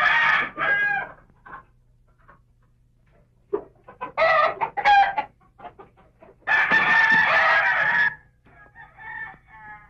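A rooster in a Mexican cockfighting setting clucks and crows in several bursts separated by pauses, fairly close and loud, with no one talking over it.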